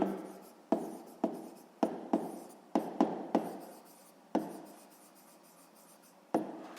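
A pen or pencil writes a number by hand on paper, with a series of close, quiet, sharp taps and short scratchy strokes in an irregular rhythm over a silent background.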